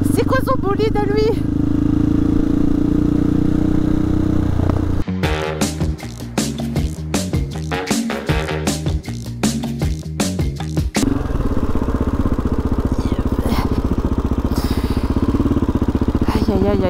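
A motorcycle threads through city traffic, its engine loud and close with a rapid stuttering burst of revs in the middle, surrounded by steady traffic rumble while someone talks over it.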